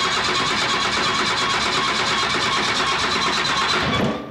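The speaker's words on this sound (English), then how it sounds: "Oh, that's a vacuum pump." A steady, loud mechanical hum with a rapid pulsing chatter runs continuously, a vacuum pump working on an idling 5.9 Cummins diesel engine swapped into a Studebaker Transtar truck, cutting off at the end.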